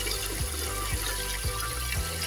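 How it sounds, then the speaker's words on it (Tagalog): Water drains out through the plug of a tilapia tank, making a continuous loud rush and gurgle with a rhythmic low thump repeating about every half second. "So dito po mga kasadyo, dito tayo nagdi-drain ng tubig."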